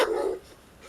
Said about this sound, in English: The third one is a dog bark.